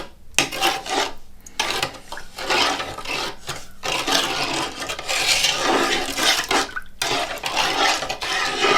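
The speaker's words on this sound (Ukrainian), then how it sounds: "Тепер ми перемішуємо." Zucchini lecho vegetable mixture is stirred in a pot, giving continuous loud rasping, scraping and wet squelching strokes in an uneven rhythm, close up with brief pauses between passes.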